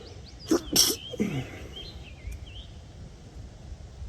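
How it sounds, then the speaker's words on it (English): A single sharp sneeze bursts out near the start during a turkey hunt in Pennsylvania, followed by quiet outdoor ambience with faint bird chirps. "Sorry about that, sneezing."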